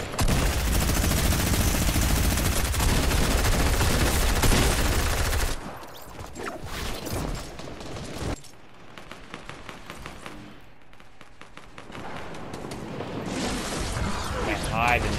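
Rapid video-game gunfire bursts loudly while players build structures, dense and continuous at first, then thinning into scattered shots and clatter.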